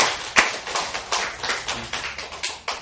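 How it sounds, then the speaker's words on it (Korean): Church congregation applauding together after a prayer, a steady run of rapid hand claps with one sharp louder clap near the start, sustained throughout at moderate level. "우리 정말 하나님께 감사와 찬양과 영광의 박수 올려드립니다"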